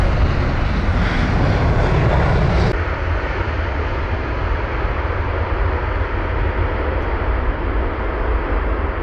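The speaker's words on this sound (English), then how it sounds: "So this is BA 276, the British Airways 7878 Dreamliner with the reg Golf Zulu Bravo Juliet Bravo" British Airways Boeing 787 Dreamliner landing at London Heathrow on runway 27R, a loud broad jet roar that drops in intensity partway through and then holds as a steady rumble.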